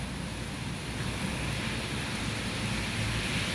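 Heavy afternoon thunderstorm rain falls in Merida as a dense, even hiss that holds steady throughout, with no voices.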